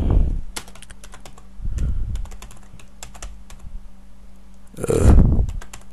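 Close computer keyboard with rapid, uneven key clicks while code is typed, broken by a few louder thumps and a brief murmur of speech.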